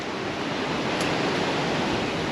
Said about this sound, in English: the noise of the water, you're not going to hear me speaking.